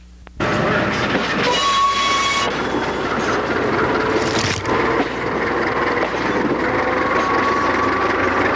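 A non-turbocharged U-18B diesel locomotive hauling a Mexican National Railways tourist train runs along weedy, questionable track, giving a loud, steady engine drone with rolling wheel noise and a brief horn tone.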